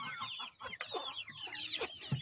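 Several hens cluck and chatter close by as they peck at a watermelon in a farmyard, a busy, overlapping stream of short calls.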